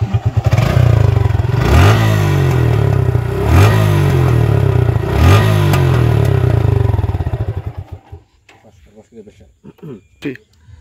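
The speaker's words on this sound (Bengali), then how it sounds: "সো আমি এখন বাইকটা স্টার্ট করবো" A motorcycle engine running on Motul 7100 10W-40 fully synthetic oil idles loudly with a rough, clattering pulse and several rhythmic revs, then cuts off, leaving sputtering ticks and quiet.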